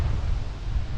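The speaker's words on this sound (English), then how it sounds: "It is very windy" Strong wind buffets the microphone on a beach at Puerto de Soller, Mallorca, a steady low roar with rumbling gusts throughout and no voices.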